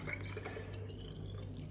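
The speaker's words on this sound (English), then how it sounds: "we're going to strain it out into a jar." Banana peel water pours and trickles through a strainer into a jar, a faint, steady liquid dribble with a few soft drips, heard up close with no talking.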